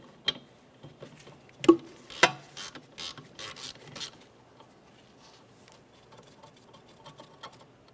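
A 12mm brake hose bracket bolt being loosened on a 2012-2015 Honda Civic: a few sharp metallic clicks and ratcheting taps, fairly close, scattered irregularly over quiet background.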